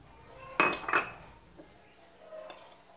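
Metal spoon clinking against a bowl while stirring corn starch into a cereal mix, two sharp clatters close together, then a few faint scrapes and taps.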